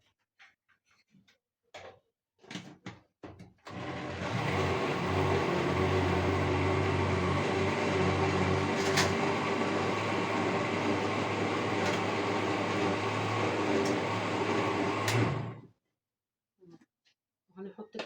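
A kitchen blender purees tomatoes for homemade tomato sauce, running in one steady loud whir for about twelve seconds. Brief clatter and handling noises come before and after it.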